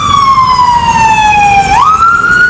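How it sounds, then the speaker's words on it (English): An ambulance siren passes close by, one loud continuous wailing tone that sweeps slowly down and then jumps back up over a steady traffic rumble. "We've got the ambulance going by, and it seems to affect him quite a bit."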